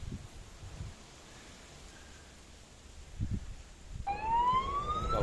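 An ambulance siren near the Tung O Ancient Trail starts suddenly near the end, a loud rising and falling wail that follows quiet rustling and footsteps outdoors.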